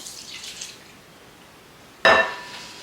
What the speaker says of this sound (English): we're gonna pour in brown butter